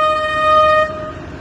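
A train on a street in Baghdad near Al-Muthanna airport sounds a loud, close, steady horn blast lasting under a second, then the tone cuts off, leaving a lower rumble.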